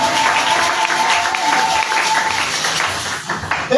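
A church congregation applauds and cheers in acclamation of Jesus Christ, a steady dense wash of clapping and crowd voices that carries on throughout at close, loud level.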